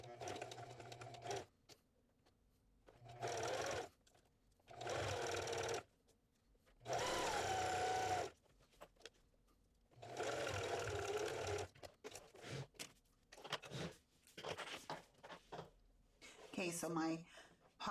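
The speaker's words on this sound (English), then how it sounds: "Now I want to make sure my webbing isn't in the way and that I'm only sewing my panel" Domestic sewing machine stitching a pocket onto a tote panel, several close bursts of fast mechanical whirring a second or two long, separated by pauses, with a voice speaking during the gaps.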